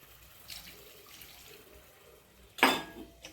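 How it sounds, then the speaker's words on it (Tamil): A short splash of water poured into a pot already holding milk, for cooking rice, near the end, after a quiet stretch of faint kitchen noise. "ஒன்றரை டம்பர் தண்ணி ஊற்றினா போதும்"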